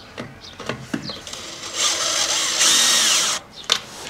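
A power screwdriver driving screws through Japanese KMEW fibre cement siding panels, with short whirring bursts leading into a longer, louder high-pitched run of nearly two seconds as a screw sinks in, then a brief final buzz, close by.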